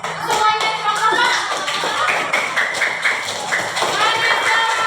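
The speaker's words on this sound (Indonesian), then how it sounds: "Tepuk tangan dong yang banyak untuk kelompok semuanya kelompok." Classroom applause for student groups, sustained clapping from many hands with a teacher's voice talking over it throughout.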